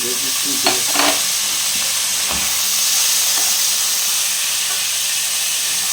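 Chana dal (split chickpeas) fries in a pan with a loud, continuous sizzle and hiss, broken by a few soft stirring scrapes near the start, close up and with no talking.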